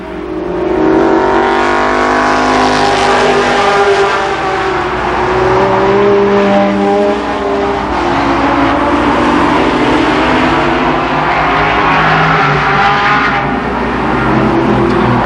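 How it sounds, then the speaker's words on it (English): Limited Sportsman race cars roar around the oval at Columbus Motor Speedway during a 1992 heat race, engines loud and continuous as several cars pass close together and rev. "Donald Parsons appears to be on his way to his first Limited Sportsman Heat Race victory"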